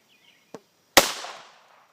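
A Ruger MKIII 22/45 .22 pistol fires match ammunition outdoors, a single sharp crack followed by a short decaying echo, preceded by a small faint click, heard close and alone.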